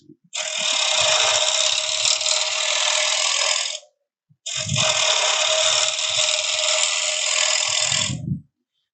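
A wood bowl blank spins on a lathe while a tool cuts toward the bottom of a groove near the tenon. Two loud, sustained cutting passes of about three and a half seconds each are separated by a short pause, with low thumps at their edges.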